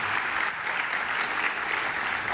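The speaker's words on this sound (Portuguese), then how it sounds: "Aplaudindo o Senhor Jesus" A church congregation in São Paulo applauds steadily and loudly, a dense wash of clapping close around the listener with no talk over it.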